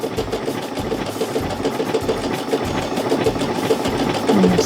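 Baby Lock sewing machine, Flare or Vesta model, running steadily as it stitches a seam through fabric, a continuous rapid mechanical whir with fine repetitive ticking, close and fairly loud, no talking.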